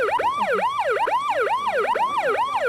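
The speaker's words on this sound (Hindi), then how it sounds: "एम्बुलेंस आ गया भैया" Ambulance siren wailing in rapid, regular up-and-down sweeps, loud and close, about two cycles per second, continuous and alone without talking.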